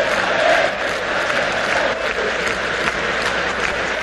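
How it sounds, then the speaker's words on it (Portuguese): A small group of Flamengo supporters sing the club anthem in a stadium during a 1994 Brazilian league match against Palmeiras, a dense, steady mass of crowd voices that stays at an even level throughout. "A pequena torcida do Flamengo canta o hino do clube."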